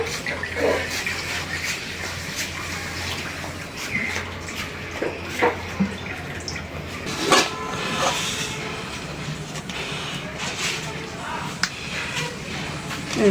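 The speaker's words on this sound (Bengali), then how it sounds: "কড়াই একটু পানি দিয়ে দিই" Water runs and splashes into a kadai amid steady kitchen background noise, with a few clanks of cookware along the way.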